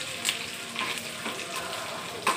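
Tempering seeds and curry leaves sputter in hot oil, a continuous close sizzle with scattered crackling pops across a couple of seconds.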